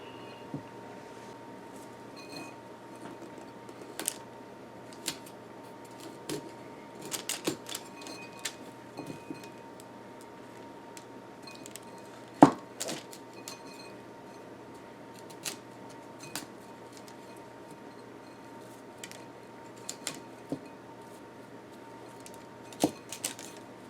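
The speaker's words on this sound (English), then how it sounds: "I'm going to start by cutting up the broccoli into small florets" Broccoli being chopped into small florets with a knife, giving scattered sharp taps and cuts on a board at close range over a quiet, steady background, with no talking.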